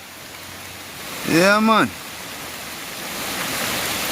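Heavy rain pours during Hurricane Ian as a steady, broad hiss that grows a little louder over the span, while someone briefly speaks over it.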